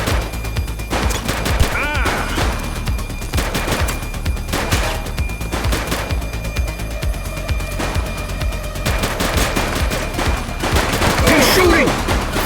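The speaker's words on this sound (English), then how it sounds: "Shots fired!" Gunfire from a police shootout in The Precinct video game, rapid sustained bursts of loud, close shots and machine-gun fire that run throughout, with some voices mixed in.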